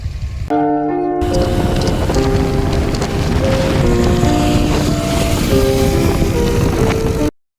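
Heavy rain pours outdoors about 10 km from Palitana in Gujarat's hill country, a dense, steady roar of drops that runs loud and unbroken for several seconds, with a sustained melodic tone layered over it.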